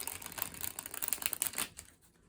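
A quick run of crisp, dense card flutters as a tarot deck is riffled together, ending in a soft settle and quiet.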